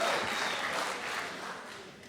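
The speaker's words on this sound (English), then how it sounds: "Yes, applause." Audience applause fills a high school variety show, a dense steady wash of clapping that tapers slightly toward the end, with no talking over it.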